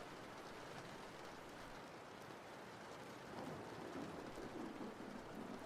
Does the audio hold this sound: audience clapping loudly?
no